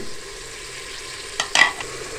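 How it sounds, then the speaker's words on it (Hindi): Tomatoes frying with garlic-ginger paste and spices in a pot for a beef, potato and cauliflower curry, a low steady sizzle with a few sharper bursts of stirring near the end, close and with no talk. "2 मिनट हमने इसको भून लिया है।"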